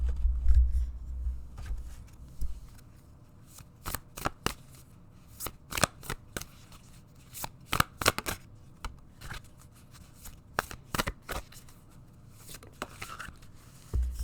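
Tarot cards are handled and shuffled up close, giving crisp papery flicks, riffles and taps in irregular bursts over a quiet background with a low rumble at the start.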